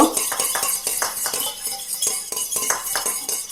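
A utensil stirs a mixture of lemon juice and oil in a bowl, making quick rhythmic clinks and scrapes against the sides, close and clear with no voices.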